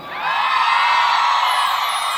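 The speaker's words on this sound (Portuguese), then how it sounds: "Quem gostou pode dar um gritão." A large concert crowd at a samba show in the Sambódromo in Manaus shouts and cheers in a sustained, loud roar of whoops and yells.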